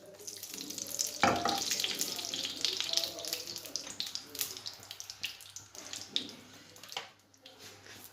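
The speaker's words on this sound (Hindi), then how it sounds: "अब देसी घी को थोड़ा मेल्ट होने देना है।" Desi ghee melts and sizzles in a pan while a tadka is started for mixed dal, a steady crackling hiss with a sharper burst early on, heard alone without talk.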